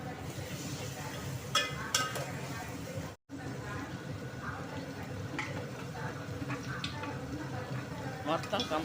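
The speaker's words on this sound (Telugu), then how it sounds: "దీన్ని అల్లం పేస్టు పచ్చివాసన పోయేంత వరకు ఫ్రై చేసుకుంటారన్నమాట." Ginger paste fries in a pan for mutton bone soup, a soft steady sizzle with occasional stirring scrapes, heard under someone talking throughout and broken by a brief silent cut.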